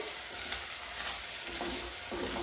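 Rice sauteing in a pan until toasted, ahead of onions and spices for vegan Mexican rice: a steady, quiet sizzle and frying hiss with faint stirring scrapes, heard alone without talk.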